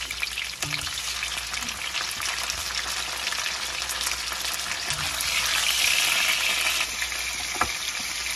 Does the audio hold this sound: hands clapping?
no